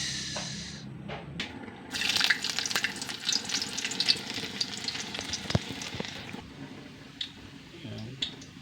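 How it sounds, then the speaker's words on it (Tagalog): Garlic, onion and ginger are sautéed in hot oil as the base for squid adobo. A close crackling fry rises after a quiet start, with sharp clatters of stirring, then slowly settles. "Magigisa muna tayo ng bawang, sibuyas, tsaka luya."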